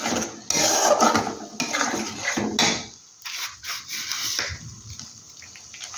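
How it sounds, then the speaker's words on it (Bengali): Cashew and poppy seed paste is worked in a pan with a spatula, producing scraping and rubbing strokes in uneven bursts, close and moderately loud with brief pauses between. "এটাকে একটু আমি ভালো মতো কষিয়ে নিই"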